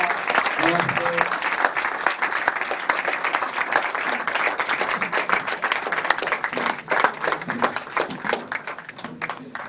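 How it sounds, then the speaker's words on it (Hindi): A television studio audience applauds the poet Najmul with sustained, close, dense clapping that rises and falls slightly, while a voice talks underneath. "और एक बार और कृपया नजमुल का ताली बजाने के लिए।"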